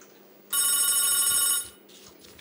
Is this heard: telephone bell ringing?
yes